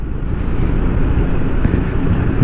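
A 2023 Honda New Forza 350 scooter being ridden gives a steady, loud engine hum mixed with wind rush, constant and close with no talking.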